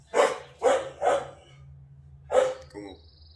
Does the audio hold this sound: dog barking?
yes